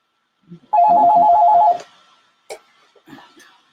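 Telephone ringing with an incoming call at a radio station, a single loud, close electronic warble lasting about a second, followed by brief quiet knocks and faint sounds.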